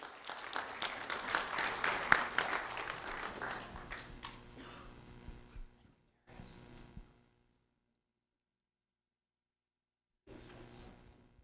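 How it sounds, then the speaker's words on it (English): Audience applause at a student recognition event for a fifth grader, a dense wash of clapping for about six seconds that thins and fades, then a short burst and a brief return after a pause of near silence. "A round of applause for Paola Diego-Estrada"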